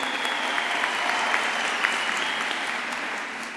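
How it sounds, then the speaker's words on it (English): Graduation ceremony audience in Qwaqwa applauding, a dense, steady wash of many hands clapping at close range that holds evenly throughout without a break. "Can we give him a round of applause again?"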